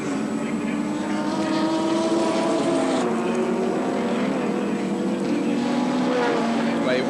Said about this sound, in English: As Cullen comes into the pits.